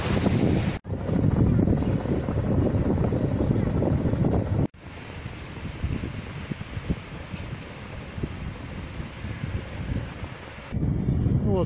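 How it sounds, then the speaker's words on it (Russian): Strong wind buffets the microphone at a Black Sea beach in Anapa as the weather turns, with surf rolling in behind, loud and gusty in sections broken by sharp cuts. "солнце скрылось, ветер дует"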